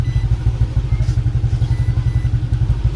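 Car engine idling steadily while warming up after an idle speed control reset, a close, loud, even low throb with a regular pulsing rhythm and no talk.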